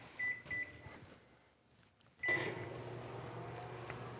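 A microwave oven used for fusing glass at 70% power gives two short beeps, falls briefly quiet, then beeps again and settles into a steady low hum as it runs.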